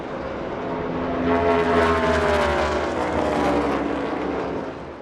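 A NASCAR Cup Series race car driven by Ross Chastain roars past, its engine whine swelling to a loud peak and then easing away over about five seconds.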